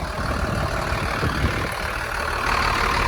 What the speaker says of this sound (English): Take a look at that Mercedes engine idling there.